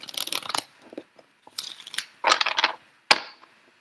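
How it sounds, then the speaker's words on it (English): Tarot cards shuffled by hand, quick crisp riffles and crackly flutters in short bursts separated by pauses, ending with a sharp slap of the deck, close and alone with no talk. "One more shuffle for you."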